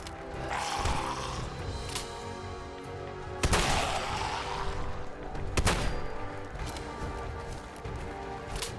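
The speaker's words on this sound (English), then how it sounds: "not doing much damage with this shotgun here." Shotgun blasts in a video game, with two sharp broadband booms standing out over a dense, busy background of constant game action and noise.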